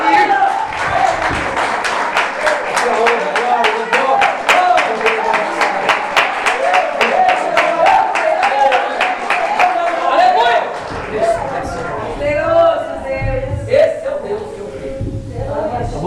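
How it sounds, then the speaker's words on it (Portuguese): Church congregation clapping in a fast, steady rhythm with loud, close sharp claps, mixed with voices and singing throughout, the clapping thinning out toward the end as talk continues. "Dê uma salva de palmas para Ele."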